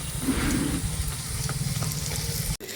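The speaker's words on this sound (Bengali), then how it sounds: "এইভাবে লাল লাল করে ভেজে নিয়েছি" Pitha frying in hot oil until reddish-brown, a soft continuous sizzle and bubbling, close and moderately quiet, ending with a short clunk.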